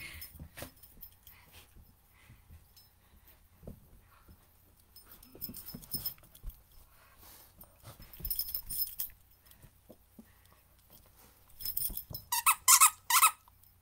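A puppy chews a squeaky dog toy, producing scattered soft squeaks and chewing noises that build into a run of sharp, high squeals near the end, heard close in a quiet indoor room.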